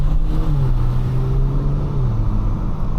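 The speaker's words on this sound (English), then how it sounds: "the induction noise is a lot louder than it is stock" A Kia Stinger's engine with an ECU tune gives a steady, loud drone with a low rumbling intake growl, pitch wavering slightly as the car idles or cruises, with no talking.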